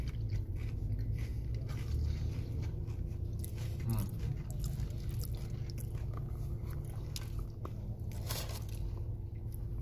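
Crispy chicken tenders with tangy ranch being chewed at close range, a steady run of crunchy bites and squishy mastication for about ten seconds, with faint murmured voices underneath.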